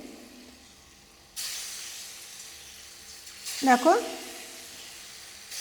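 Matar dal fritters, made with sesame and coconut, drop into very hot oil with a sudden steady hiss that swells into a louder bubbling sizzle, while a voice briefly speaks.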